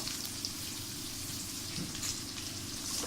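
Curry leaves, onion and garlic cloves sautéing in oil for a dried-fish kuzhambu, a steady close crackling sizzle with faint pops running unbroken throughout, no voices.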